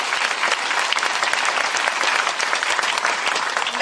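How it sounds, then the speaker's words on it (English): A crowd at a Nikki Haley presidential campaign rally in South Burlington claps steadily, dense sustained applause filling the space for several seconds without a break. "Can we get a round of applause for that?"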